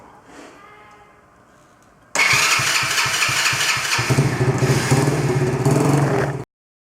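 A broken quad bike engine fires up after faint starter attempts, then roars loudly at close range, revving briefly before settling into a steady, rough idle that cuts off abruptly.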